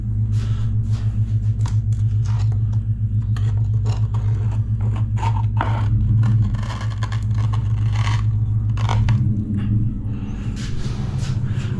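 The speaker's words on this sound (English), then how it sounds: "Sounds like a nice V8." A neighbour's V8 car engine idles and rumbles next door as a deep, steady low drone, with scattered scraping and tapping from tile work nearby; no talking.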